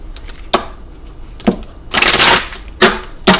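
Oracle cards being shuffled and drawn, with brief crisp riffling bursts at intervals and one longer rustling shuffle in the middle, close and fairly loud.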